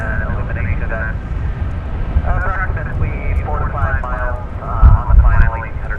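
Jet engine roar from an Airbus A380 airliner at DFW Airport at night, a steady loud rumble with a high whine, while people talk over it.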